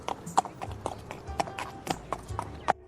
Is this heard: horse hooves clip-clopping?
yes